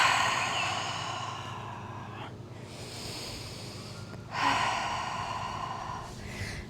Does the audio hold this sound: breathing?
yes